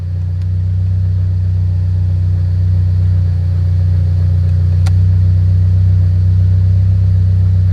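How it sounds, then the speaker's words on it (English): Mitsubishi Evo X cruising on a test drive, a steady low engine rumble and road drone heard from inside the car, fairly loud and even with slight swelling. "we're gonna go ahead and take it for a test spin"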